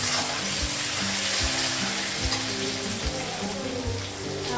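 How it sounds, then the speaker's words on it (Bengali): Bottle gourd and onion fry in a pan with a steady, even sizzle, soft and continuous, joined by faint low knocks at regular intervals, with no voices. "লাউটা পেঁয়াজটা ভাজা হয়ে গেছে"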